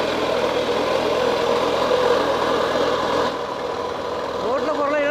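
A small single-cylinder engine from a TVS XL moped converted into a mini front loader runs steadily at close range, a continuous buzzing drone that shifts in tone partway through as the machine turns.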